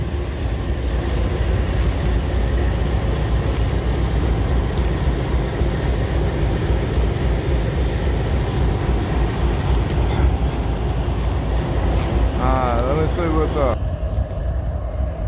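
A freight train of SCWX coal cars rumbles past close by in a steady, continuous roar with brief squealing wheel tones near the end, while someone speaks briefly over it.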